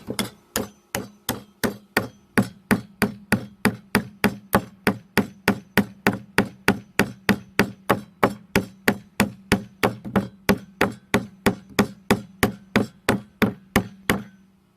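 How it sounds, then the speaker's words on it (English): Hammer blows drive nails into 2x4 boards for a bench in a steady, even rhythm, dozens of sharp knocks close by with no talking. "Might need to adjust from the hammer blows"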